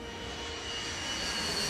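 A Boeing 757 airliner cruises at 37,000 feet, a steady broadband engine roar and rushing hum that holds evenly throughout at moderate loudness, with no talking.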